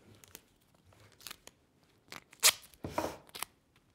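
Tape torn off a roll with a sharp ripping burst followed by a longer crinkly pull, close and quiet, among light rustling of cardboard during work on a homemade pizza box easel.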